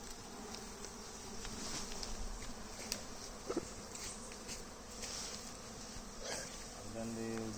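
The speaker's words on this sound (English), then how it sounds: "we supposed to release these bees by shaking the box." Honey bees being shaken out of a nuc box into a brood box give off a faint, continuous buzzing hum, with a few soft knocks from the box.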